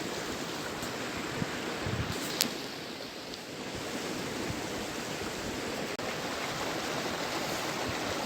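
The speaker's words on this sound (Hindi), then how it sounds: "ये कलकल बहती हुई एक छोटी सी नदी जो इन पहाड़ों के ऊपर कहीं जमी बर्फ़ के पिघलने से" Small mountain stream fed by melting snow near the Pindari glacier trek, a steady, even rush of flowing water that holds constant throughout with no voices.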